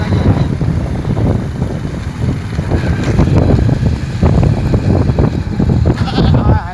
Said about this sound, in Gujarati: આને બકરા આવી ગયા